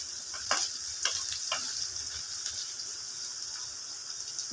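Onions sauté quietly in a pan before chicken is added for chicken chintamani, a soft, steady sizzle with a few light clicks of stirring early on.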